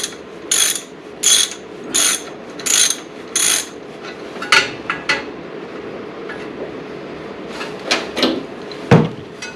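Ratchet wrench working the bottom alternator bolt on a 1966 Ford Mustang 289 V8: five close, loud bursts of rapid clicking, then scattered sharper clicks and knocks of the tool and metal.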